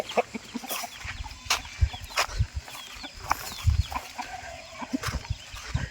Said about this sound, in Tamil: இங்கே பார்த்தீங்களா எவ்வளோ கோழி இருக்குன்ட்டு.